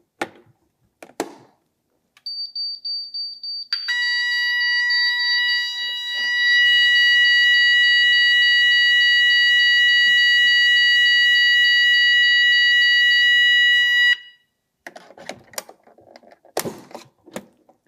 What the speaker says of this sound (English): when there is a fire alarm, the panel's buzzer goes off along with the sound and visual